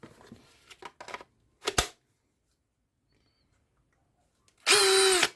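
A new Einhell cordless screwdriver drill spinning up in a short, loud, close whir with a steady motor whine, preceded by handling clicks and knocks and a stretch of quiet.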